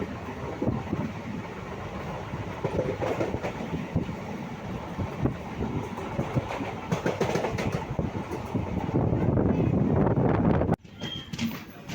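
A moving train on the Kudal–Mumbai run rumbles and clatters steadily and loudly, with wind buffeting across it, before the sound cuts off abruptly near the end.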